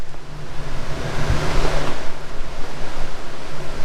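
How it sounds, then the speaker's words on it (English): Steady wind roars and buffets outdoors, a constant broadband rush with gusty swells throughout, no voices. "It's windy and crap outside, look."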